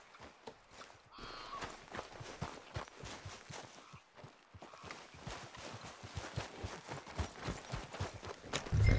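Horse hooves clip-clop steadily in Red Dead Redemption 2, a close, even walking rhythm of hoof strikes continuing for several seconds alone, with no talk over it.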